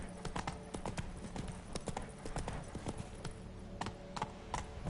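Horse hooves clip-clop in The Witcher 3 on PS5, a steady run of close, rapid hoof falls over faint game ambience.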